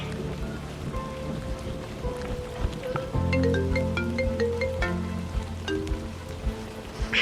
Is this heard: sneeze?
no